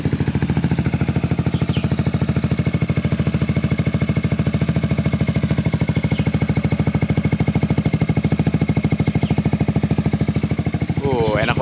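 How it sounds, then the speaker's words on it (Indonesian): A 2023 Yamaha XMAX Connected scooter with an aftermarket Aero exhaust idles steadily with a deep, rumbling exhaust throb that holds even and close for the whole stretch, with no pauses. "dengerin suara exhaustnya sedikit."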